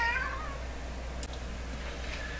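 A house cat meows clearly and close by, one drawn-out call at the start followed by a fainter trailing meow, with no talk over it.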